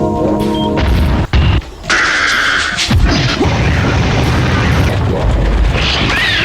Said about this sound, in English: You have the various different gun sounds.